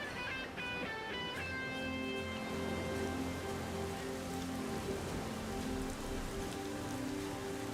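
Rain falls during a night voyage at sea in a pirate video game, a steady patter carrying on beneath layered game music and sustained tones.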